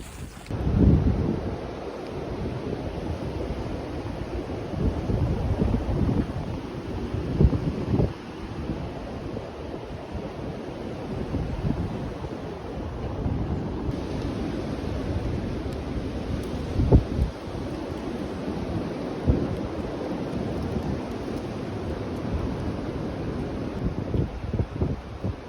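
High wind roars steadily on the Appalachian Trail in Georgia, rushing and buffeting the microphone throughout with gusty surges and no speech.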